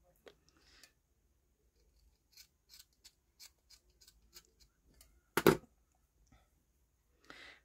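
Scissors trimming a strip of lace for a garnished craft envelope, a quiet series of small snips and ticks across the clip with one louder, fuller cut near the end, close and alone without talk.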